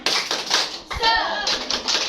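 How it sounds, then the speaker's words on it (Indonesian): A group of women at a village health and nutrition session doing a rhythmic spirit clap, sharp patterned claps with a brief pause where voices chant, then clapping resumes. "Ibu tepuk semangat dulu biar nggak ngantuk."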